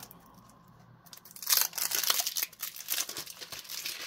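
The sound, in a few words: plastic wrapping being undone, crinkling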